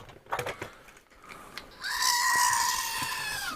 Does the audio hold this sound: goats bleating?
yes